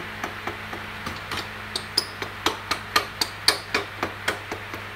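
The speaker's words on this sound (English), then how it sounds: "Grab a hammer. Just be careful when you're tapping it through." A hammer taps an axle through the rear wheel of a Honda CT110 Postie Bike, a steady series of about fifteen sharp metallic knocks, close and distinct, gradually speeding up against a quiet workshop background.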